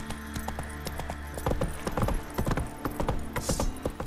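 Horse hooves galloping in The Witcher 3: Wild Hunt, a rhythmic clip-clop that starts softer and grows into loud, close, quick beats with faint creaking tack.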